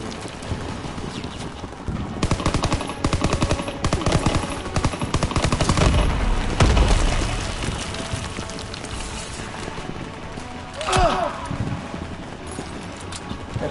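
Rapid AK-47 automatic gunfire in a video game plays over a busy, dense game soundscape, with bursts running through most of the stretch, louder around the middle.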